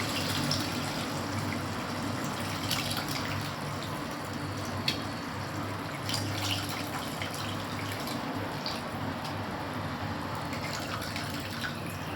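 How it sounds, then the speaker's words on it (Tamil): Tamarind water poured into a cooking pot of okra tamarind curry, a steady, close liquid splashing and trickling that runs continuously for several seconds with no talking. "நம்ம கரைச்சி வச்சுக்கிற புளியை புளி தண்ணி ஊற்றுவோம்"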